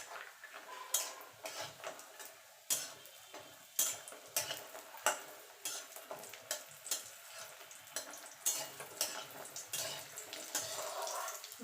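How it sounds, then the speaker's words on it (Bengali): Lentil badi (dried urad dal dumplings) fry in mustard oil in a wok, with a steady crackling sizzle broken by sharp spatula clacks and stirring scrapes, close and fairly loud, with no talking. "বড়িগুলোকে একটু লাল লাল করে ভেজে নেব।"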